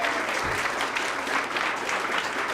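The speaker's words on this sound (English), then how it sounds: "So big round of applause to those ladies" Sustained audience applause at a women in business expo, for the event's sponsors, a dense, steady wash of many hands clapping at close range with no talk.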